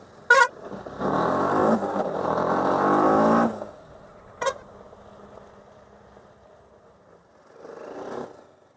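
A BMW G310RR motorcycle is revved, its engine rising in a strong burst of about two and a half seconds, then settling to a low idle. Sharp clicks come before and after the rev, and a second, softer rev follows near the end.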